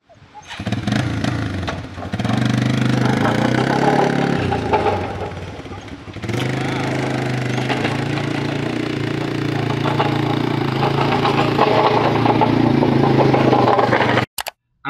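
A small ATV engine pulling a homemade 7x4-foot farm trailer on a test drive, running steadily and loud throughout with a brief dip partway, plus rattling clatter from the loosely bolted trailer.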